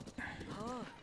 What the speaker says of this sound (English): Like I said, it's a wild horse.